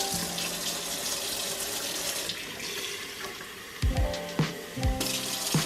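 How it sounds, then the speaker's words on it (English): Tap water runs into a blender jar for a smoothie, a loud close gush of filling liquid followed by a few clunks and knocks of the container. "So I'm just gonna fill it up with some water."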